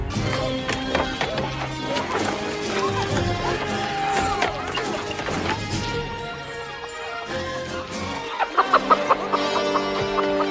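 Hens cluck and squawk amid busy background sound and scattered clatter, with a quick run of short clucks near the end.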